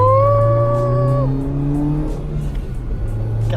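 A Mazda Miata accelerates hard, its engine rising in pitch through a gear, then a shift and continued strong revving with road and tire noise, close and loud throughout.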